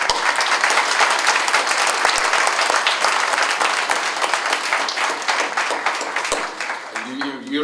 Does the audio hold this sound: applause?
yes